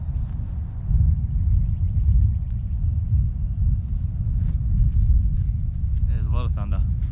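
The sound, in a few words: thunder rumbling as a storm approaches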